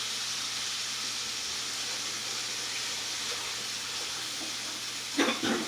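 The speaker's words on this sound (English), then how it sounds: "Pan's nice and hot. Okay, let's flatten it out. We get a nice sear on there." Food searing in a hot pan, a steady broad sizzle and hiss that continues evenly, ending with a couple of short clatters near the close.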